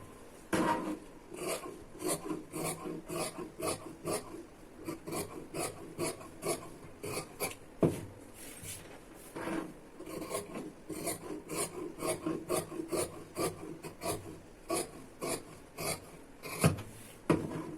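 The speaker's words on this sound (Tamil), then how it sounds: "இப்போ இந்த ரெண்டு பீஸை கட் பண்ணாவே போதும்." Two wooden pieces are cut with a hand saw in steady, rhythmic back-and-forth rasping strokes, close up and continuous with brief pauses, no talk.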